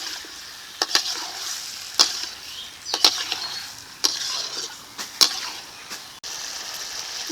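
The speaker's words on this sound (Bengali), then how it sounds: "এখন মাংসটাকে সময় নিয়ে ধীরে ধীরে কষিয়ে নেব খুব সুন্দর করে" Duck meat with chopped tomato and whole garlic slowly braising in a pan, giving a steady sizzle and hiss with a metal spoon scraping and tapping about once a second.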